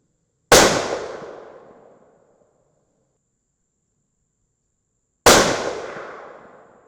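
Two sharp rifle shots fired from a bare barrel with no muzzle device, loud and close, each with a long decaying echo, spaced several seconds apart with silence between.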